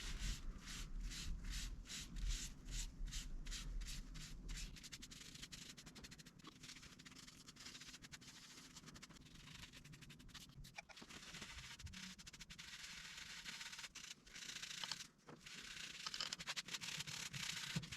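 Dye stain wiped onto a live-edge wooden vase on a lathe, darker dye first: a continuous soft rubbing and scuffing with a faint steady hum underneath, close and quiet throughout.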